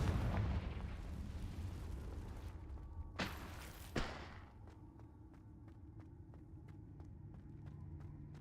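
Confringo blasting spells in Hogwarts Legacy set off booming explosions that rumble and fade, followed by two sharp blasts and then a run of faint, evenly spaced clicks over a low hum.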